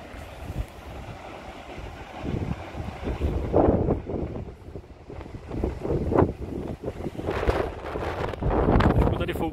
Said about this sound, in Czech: Trošku tady fouká teda.